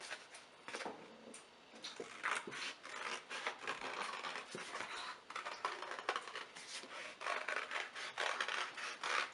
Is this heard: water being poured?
no